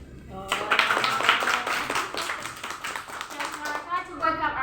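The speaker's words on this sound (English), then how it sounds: "give a big applause to welcome my speech" An audience at a speech gives a short burst of scattered hand clapping, close and uneven, with voices talking over it.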